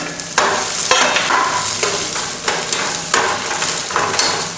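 Ridge gourd sautéing in a pan for a chutney, steady close sizzling broken by repeated scraping stirs of a spoon against the pan, with no one speaking.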